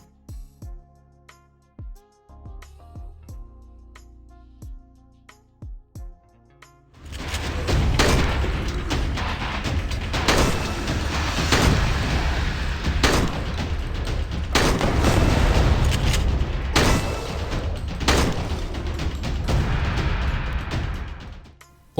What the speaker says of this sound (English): In the game you have zombie shooting action